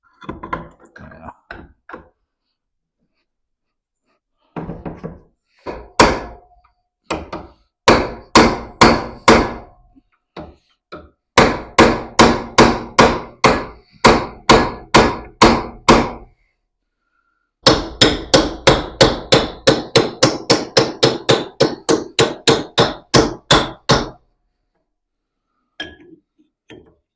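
Metal hammer blows on the seized pulley of a 1980 K1500 truck, delivered in rapid bursts of sharp ringing strikes separated by short pauses, loud and close.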